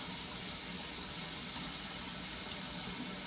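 A tap runs steadily while a man wets his face before shaving. The water makes a close, even, continuous rush with no breaks and no talk.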